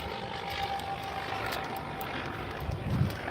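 A high-wing, fixed-gear, single-engine light airplane with a conventional tail flies over, a steady broad engine drone at moderate distance with no voices.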